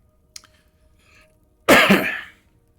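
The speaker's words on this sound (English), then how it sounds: "Pardon the cough." A single harsh cough bursts out close by after a few faint rustles, loud and raspy before trailing off.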